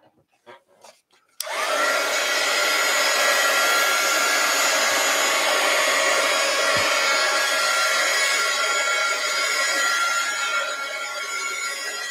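A hair dryer switches on sharply and blows with a loud, steady whoosh while drying a freshly worked art journal page, running close by, then easing slightly near the end.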